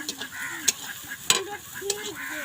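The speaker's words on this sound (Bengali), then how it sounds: "এবার মশলাটা একটু ভাজা ভাজা হয়ে যাবে" Spices frying in hot oil in a pan give a steady close sizzle, punctuated by several sharp spoon clanks and scrapes against the metal as they are stirred, with no talking.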